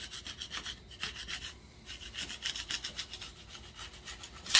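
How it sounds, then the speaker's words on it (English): A scraper works rhythmically over a 4-speed Muncie transmission part to clean it for a gasket, with repeated close rasping strokes and a sharper scrape at the end. No one speaks. "All right, let's scrape this clean."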